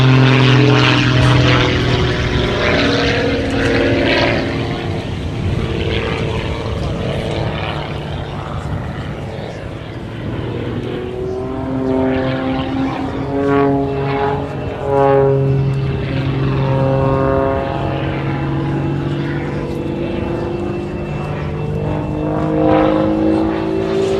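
A Pitts Special S2-S biplane with a 260-horsepower engine flies an aerobatic display at Farnborough air show, its loud propeller engine droning and rising and falling in pitch as it swoops past, continuous throughout.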